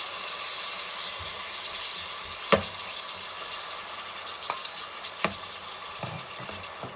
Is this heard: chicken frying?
yes